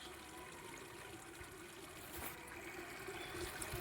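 Water gushes steadily from a burst water pipeline in a town, a continuous, even rushing and trickling flow heard from nearby with no talking.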